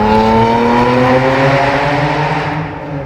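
Car with a full exhaust revving hard, a loud, droning blare with rising and falling harmonics that holds for a few seconds before easing slightly.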